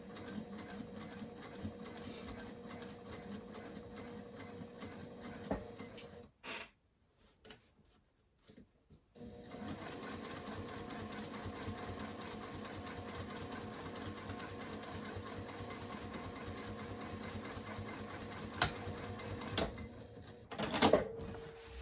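A sewing machine stitches slowly through thick material with a steady, close mechanical hum and rhythmic needle ticking, pausing briefly midway before running on again, ending with a couple of louder clunks.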